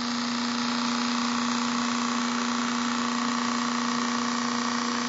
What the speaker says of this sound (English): this thing sounds like it's going to fly off of the table. It runs so fast.